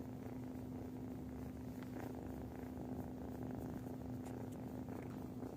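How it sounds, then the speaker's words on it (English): A cat's soft, steady purr rumbles continuously at close range, low and quiet, with no other sounds. "He's purring, actually."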